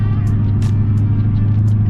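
Steady car traffic on a road in San Antonio, a constant loud rumble of engines and tires close by with no breaks, and no voices.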